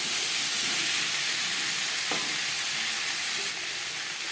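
Potatoes are stirred with salt and turmeric in a hot pan for a fish curry with eggplant, giving a steady close sizzle with soft scraping as the spoon moves, and no talking.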